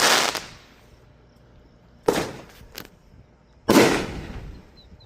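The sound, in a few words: 250-ball firework cake exploding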